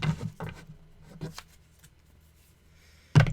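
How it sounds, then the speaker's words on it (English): A deck of tarot cards is shuffled by hand close up, giving soft papery riffling bursts separated by quiet pauses, with a louder flurry at the end. "I feel like that's pretty well shuffled."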